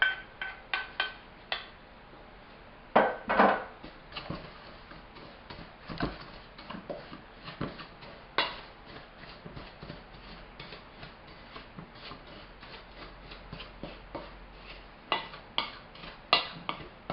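Crust ingredients being stirred into melted butter in a pan for a lemon cheesecake, with a long run of small scraping and tapping clicks from the utensil against the pan, irregular and fairly close.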